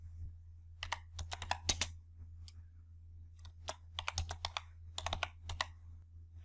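Typing on a computer keyboard while working in Excel, quiet close key clicks in two short bursts with a pause between, over a low steady hum.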